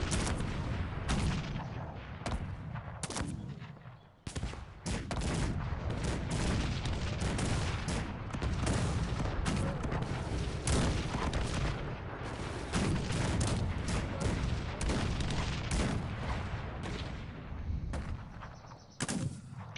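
Cannons fire again and again in a Cossacks 3 battle, a dense barrage of booming shots overlapping into near-continuous thunder with only a few brief gaps, loud and close throughout.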